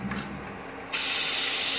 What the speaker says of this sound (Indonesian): buat buang uap